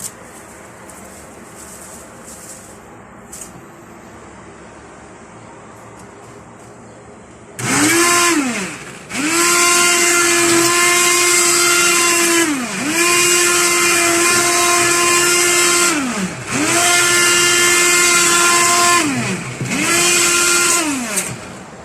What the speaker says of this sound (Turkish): Yine blenderdan geçireceğim.